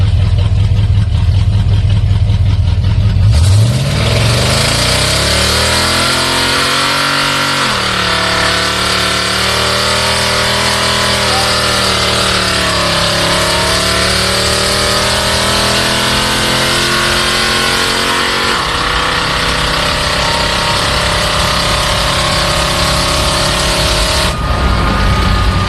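An Infiniti G35 engine revs hard and loud as the car accelerates through the gears, pitch climbing and dropping at each shift over a long continuous run, close to the microphone.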